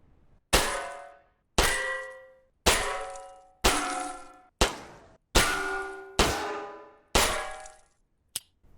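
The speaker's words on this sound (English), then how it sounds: "let's try shooting some of these tin cans" Gunshots striking tin cans in a video game under development, eight evenly spaced loud metallic clangs that ring out and decay before each next hit, followed by a brief final click.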